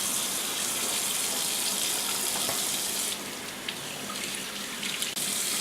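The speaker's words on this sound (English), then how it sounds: "Rinse the inside of the chicken under cold water." Cold tap water runs steadily while a whole chicken is rinsed under it, a close, constant splashing hiss with slight shifts in tone as the flow hits the bird.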